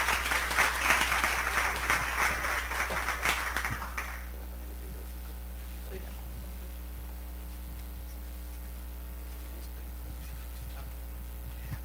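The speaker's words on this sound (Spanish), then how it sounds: "Démosle un muy fuerte aplauso y una gran bienvenida a Salma Jalife" Audience applause welcoming speaker Salma Jalife at the SOMECE 2015 event, a dense burst of clapping for about four seconds that cuts off abruptly and leaves a quiet room hum.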